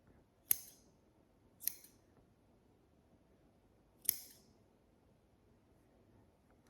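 Scissors snip through craft material for making gnomes, three crisp, separate cuts spaced a second or more apart, close and quiet with no talking.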